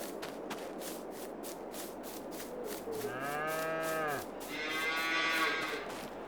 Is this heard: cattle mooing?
yes